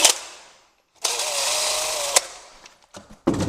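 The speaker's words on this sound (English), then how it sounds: "I'm gonna drill them a little bit deeper." Power drill deepening screw holes for a sliding patio door foot lock, with a short burst of whirring, a pause, then a longer steady run, followed by a few clicks and knocks.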